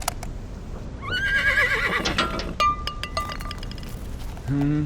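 A horse lets out a loud, wavering whinny near the start, followed by scattered clinks and glassy chinks, then a short low snort or rumble at the end.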